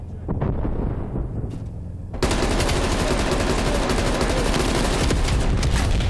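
Automatic weapon fire in the online shooter Call of Duty: Black Ops Cold War, with a brief burst and then continuous rapid machine-gun shots that stay loud and close.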